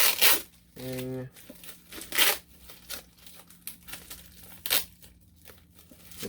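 Packing tape ripped off a cardboard package in several sharp tearing and crinkling bursts, close by, with a person talking in between and a steady low hum underneath.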